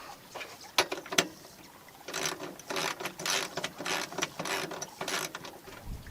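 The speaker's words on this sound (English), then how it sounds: "we'll find our Allen wrench" Metal Allen wrench ratcheting and turning bolts while assembling a DeWalt DWE7491RS table saw stand, heard as a few sharp clicks early on, then a run of close, gritty bursts of scraping and clicking.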